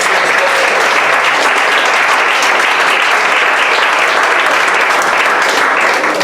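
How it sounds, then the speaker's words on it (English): Steady, full applause from a conference audience thanking a panel, dense and continuous without a break. "You one round of applause here."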